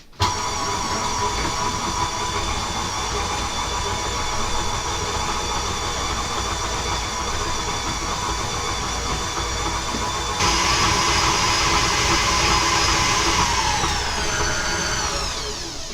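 An electric mixer beats snickerdoodle cookie dough after an egg has been added, giving a steady, loud whirring motor hum that continues throughout and shifts pitch slightly near the end.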